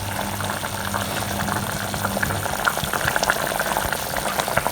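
Kerala-style roasted-coconut egg curry gravy, before the eggs go in, bubbles at a steady rolling boil in a pan, with a continuous close, moderate wet burbling and popping.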